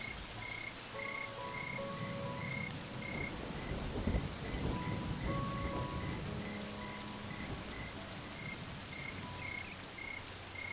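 Heavy rain on the Serengeti with a steady wash of falling water, low rumbles of thunder, and frogs croaking in repeated rhythmic calls throughout, no voices.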